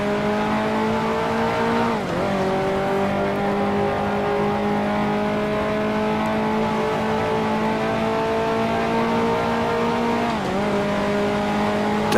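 A Ferrari 2.5 liter race car engine in Grand Prix Legends, racing the 1955 Argentine Grand Prix, holds a loud, steady high-revving drone, with two brief dips for gear shifts, and no voices.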